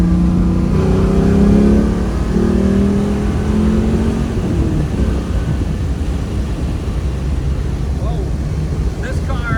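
A 1969 Chevrolet Camaro restomod with an LS3 V8 and a Tremec 5-speed accelerates hard, a loud, steady engine roar whose pitch climbs then settles into a dense, continuous drone.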